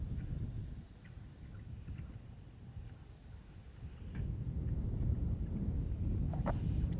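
Strong wind at SpaceX Starbase in Texas buffets the microphone with a heavy, rumbling roar that swells louder partway through, with a few faint clicks and no voices.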